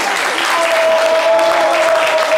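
Dense, steady audience applause in a studio show, filling the whole stretch at close range with a faint tonal hum underneath.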